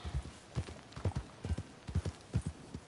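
Horse hooves clip-clop in a steady walking rhythm in Red Dead Redemption 2, close and clear, with no talk over them.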